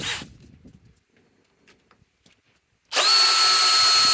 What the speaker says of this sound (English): let's go with the 5 amp power stack that belongs on this DEWALT DCD 805.